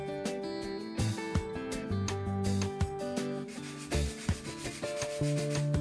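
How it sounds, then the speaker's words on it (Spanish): Close, steady rubbing and scraping of sandpaper against the sides of wooden model house pieces, in uneven back-and-forth strokes, fairly loud, with some tonal music underneath. "Ahora lija los costados para que peguen bien las piezas"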